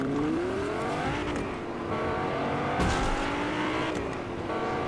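A car drives in the video game Fortnite, its engine revving and shifting steadily and loudly for several seconds, with a few sharp knocks or impacts mixed in and no talking.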